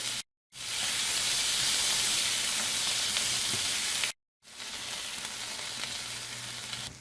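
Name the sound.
onions frying and sizzling in a pan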